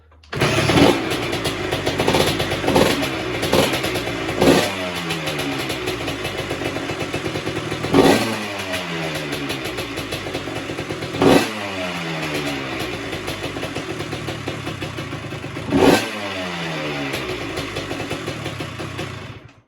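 A 1987 Honda CR125 motorcycle engine, cold at -1 degrees, is kicked over several times, sputters, then catches and settles into a steady, lumpy idle with occasional blips of throttle.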